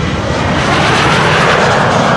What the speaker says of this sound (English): This has been KLM flight 927 to Edinburgh, a 737-800.